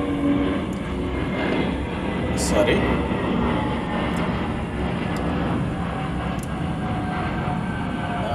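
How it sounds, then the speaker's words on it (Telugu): A low, steady drone of an airplane passing overhead fills the whole stretch, with no clear rise or fade. "సౌండ్ చూసారా? ఫ్లైట్ మూవ్ అవుతూ ఉంది."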